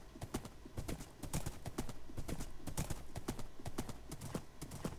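Horse hooves in Minecraft clip-clop in a quick, regular rhythm of sharp, close taps on hard ground, with no talk.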